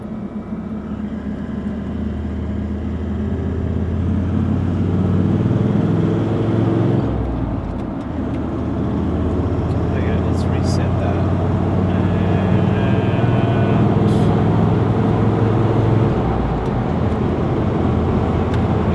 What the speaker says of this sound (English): we should probably hear the wind noise start to take over